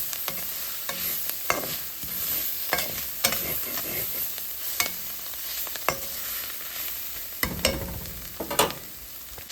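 Garlic, mustard seeds, cumin, dried chilli and fenugreek fry in oil for a Jaffna-style curry, with a steady close sizzle broken by sharp scraping stirs of a spoon against the pan and no voices.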